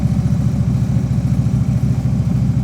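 Motorcycle engine with the throttle brought up to preload before pulling away, a loud close steady rumble with a fast even low pulse and no voices.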